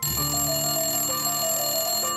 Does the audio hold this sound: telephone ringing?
yes